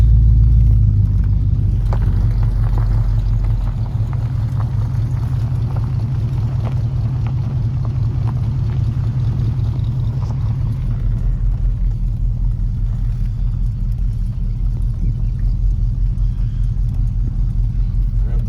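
A 1969 Pontiac Bonneville Safari wagon flat towing a 1969 Pontiac GTO, giving a loud, steady low engine rumble and road drone that fills the whole stretch, with faint voices underneath.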